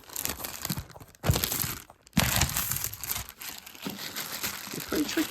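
A plastic bag crinkles and rustles close by while a boxed Super 7 Ultimate Starscream figure is unpacked, giving busy, uneven crackling with brief pauses and louder bursts.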